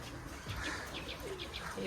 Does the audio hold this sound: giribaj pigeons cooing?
yes